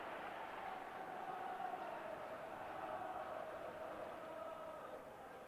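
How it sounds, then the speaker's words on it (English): Football crowd at Ibrox during a Rangers v Dundee United match swelling into a sustained ovation, a broad, steady roar of distant applause and cheering that holds throughout at a faint, even level. "And we get a huge ovation from the crowd."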